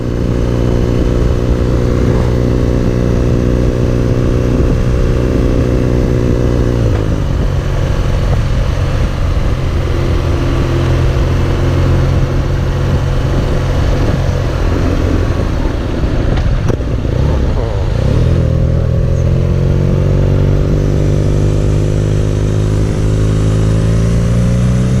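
A 2019 BMW R nineT Urban G/S motorcycle rides along in gear, its boxer exhaust a steady loud drone that drops pitch with a gear change partway, then settles lower and quieter before rising again.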